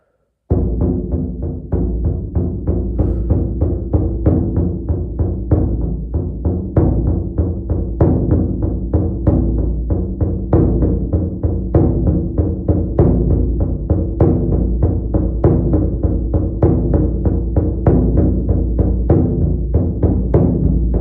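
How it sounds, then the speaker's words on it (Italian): A shamanic frame drum beats in a steady, even pulse of deep, booming strikes, roughly two or three per second. It plays loud, close and alone throughout. "Respira, io ti accompagno col mio tamburo"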